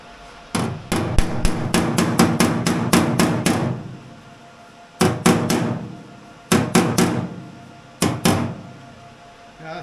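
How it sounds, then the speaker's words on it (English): Hammering on a rear body panel of a 1963 Hillman Super Minx during a rebuild: a rapid run of about a dozen sharp metallic blows, then shorter bursts of three or four strikes separated by pauses, loud and close. "Got to find my hammer."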